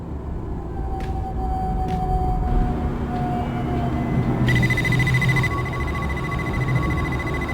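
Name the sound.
pizza oven timer alarm in Dreamfall video game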